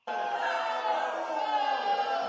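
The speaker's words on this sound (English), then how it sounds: "You get booed." A crowd lets out a sustained, loud boo lasting a couple of seconds, a dense wall of many voices starting abruptly and holding steady.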